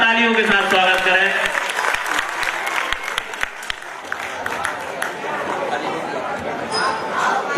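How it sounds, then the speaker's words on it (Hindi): An audience at a public quiz event breaks into loud applause, many hands clapping in a dense wash that follows a spoken introduction and gradually thins, with crowd chatter underneath. "भैया गोपाल भार्गव के साथ जोरदार तालियों के साथ स्वागत करें।"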